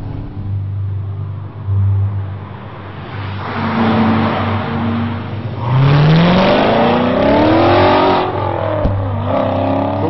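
Chevrolet-powered Indy race cars at the Detroit Belle Isle Grand Prix roar past on the track, engines whining as they accelerate, with a loud pass that rises and falls in pitch over steady crowd noise.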